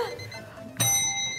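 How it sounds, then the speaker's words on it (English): A bell is struck once to end a timed cooking round on a Korean cuisine competition show, giving a bright ringing tone that sustains and slowly fades after a brief lead-in of studio murmur. "Please ring the bell."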